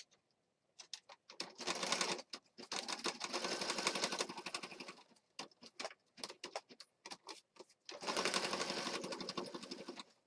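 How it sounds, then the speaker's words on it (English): A sewing machine stitches lace onto a junk journal page in rapid mechanical bursts, several seconds of steady whirring broken by short pauses and quick clicks, close and clear with no talking. "So, aha, I can put it like this and then sew it down."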